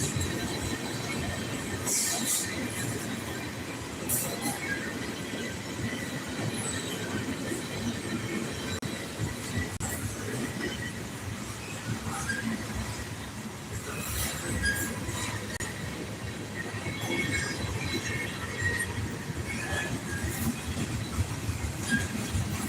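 A freight train rolls past at length, a continuous rumble of cars with rhythmic wheel clatter and occasional high squeals from the rails, steady and moderately distant throughout.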